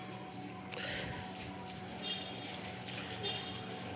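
Water poured into a plant pot at home, a soft, steady trickle and splash heard close by and fairly faint, with brief louder bursts of flow.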